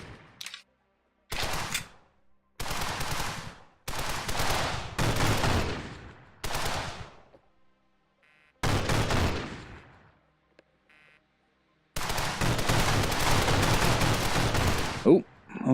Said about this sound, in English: We'll do a bit of blind firing just to try and distract them.